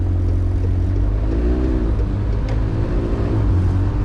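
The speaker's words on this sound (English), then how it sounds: "it just sounded like it was in too high a gear" A McLaren 720S engine drones steadily at low revs, a lugging hum with slight pitch wavering, as if held in too high a gear.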